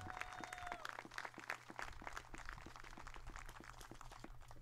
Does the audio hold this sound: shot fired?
no